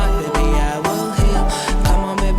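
The music track plays loud and continuous with a thumping beat, bright layered instruments and steady pulses, with no talking over it.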